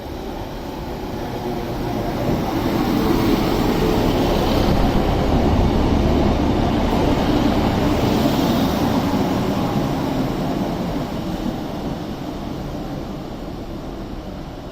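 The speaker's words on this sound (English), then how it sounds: "Also coming in, we have the 10:52 Northern service to Chester from Manchester Piccadilly" A Northern Class 150 diesel train pulls into Stockport station, a loud broad rumble swelling as it nears and holding steady, then easing slightly, with no voices over it.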